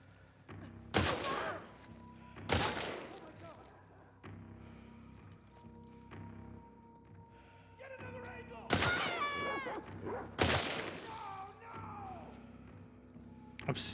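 Rifle gunfire from The Last of Us Part II, sharp loud shots at irregular intervals, several single cracks and a couple of closer doubled bursts, over a low game ambience with faint chirping effects.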